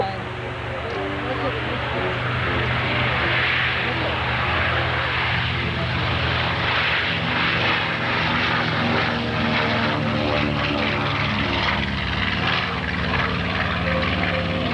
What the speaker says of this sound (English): that's the B-25 that's just pulled off the field here